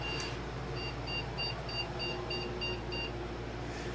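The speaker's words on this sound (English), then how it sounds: "we got a fast page set of beeps" A Power Mac G5 with a graphics card fault gives a quick series of about eight evenly spaced, short, high startup error beeps. They sound faint against a steady background hum.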